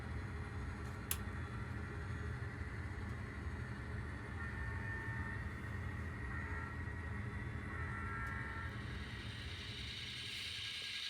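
A ScaleTrains Burlington Northern SD45 model locomotive runs on a home layout, producing a faint, steady mechanical rumble and hum with soft ticking that lasts throughout and carries no speech.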